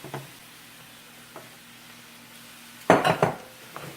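Potatoes being stirred into a pot of chicken vegetable soup, mostly quiet simmering, then a short cluster of loud clattering spoon knocks against the pot near the end.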